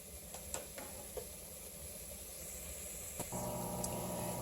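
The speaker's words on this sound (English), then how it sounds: "I'm going to let that simmer for a minute" Chicken noodle soup simmers in a pot with a continuous low hiss and bubbling, a few faint clinks along the way, and then a steadier tone joins near the end.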